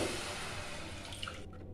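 Water poured from a glass into a bowl while preparing rice-flour chegodilu dough, a steady close splashing stream that stops abruptly near the end.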